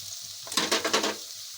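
Finely chopped medium tomato and vegetables stirred in a hot pan, a short burst of close sizzling with a few quick spatula strokes, rising after a quiet start and fading back down.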